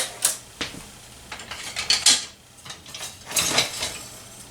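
A spoon mixes and folds gnudi dough in a bowl, giving irregular clinks and scrapes against the bowl in short bursts, close and fairly quiet, with no talk.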